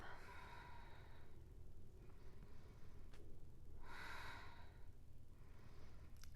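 Slow, deep breaths during a yoga session, with soft airy inhales and exhales in long swells, two clear rounds a few seconds apart, close and quiet with no talking.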